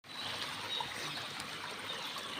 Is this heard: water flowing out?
yes